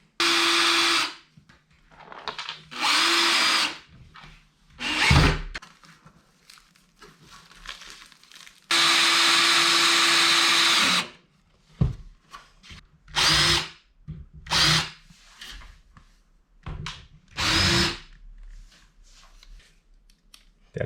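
A power drill drives screws into a skate ramp being built. Loud, close whirring bursts of a few seconds each start and stop repeatedly, with quiet pauses between them and no talk.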